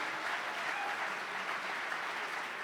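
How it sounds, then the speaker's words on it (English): Sustained applause from an audience at a charity gala, steady and dense from start to finish with no one speaking over it. "Let's give both individuals a huge round of applause"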